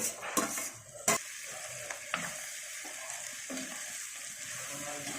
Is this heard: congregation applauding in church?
no